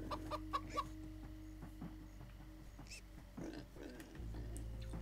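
Chicken clucks in Minecraft: Story Mode, a few short calls early on over a steady droning music bed with low rumbling tones.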